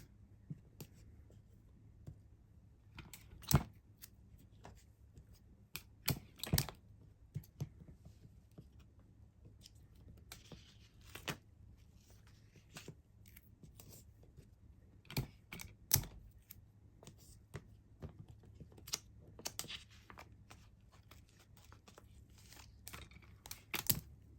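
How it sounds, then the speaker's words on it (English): Tape is pulled from a roll and pressed down onto an air freshener blank set up for a heat press, heard as scattered close tearing and crinkling snaps over quiet. "So now we're ready to tape it down."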